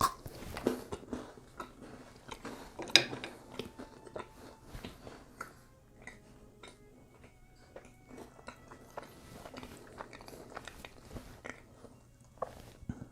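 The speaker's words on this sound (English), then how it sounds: "we'll give it another chance and bite into it" Someone biting into and chewing a sticky caramel snack, soft crunches and wet chewing sounds scattered over about thirteen seconds, close and fairly quiet, with no talk.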